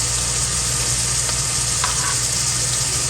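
Chicken frying in a pan over medium heat for a chicken and okra dish, giving a steady, close hiss and sizzle throughout with a low hum underneath and no voices.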